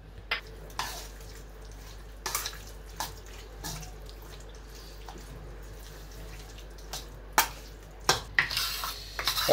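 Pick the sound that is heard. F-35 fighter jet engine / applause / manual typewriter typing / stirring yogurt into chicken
stirring yogurt into chicken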